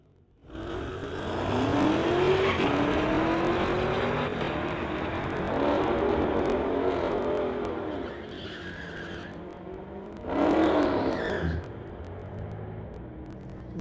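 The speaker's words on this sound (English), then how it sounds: "bert McLean in the Lordco lane from Burnaby, racing his 2018 Camaro." A 2018 Camaro runs a Friday night street-legal drag race down the Titanium Strip, its engine roaring loudly and steadily as it launches and pulls away, then a second louder surge of engine noise near the end.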